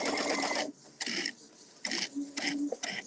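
Sewing machine stitching a star pillow in bursts, short runs of motor whir with pauses between, including a brief back stitch, close and clear with no talk.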